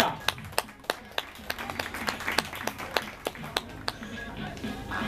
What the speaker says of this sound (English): And a round of applause for their third stop.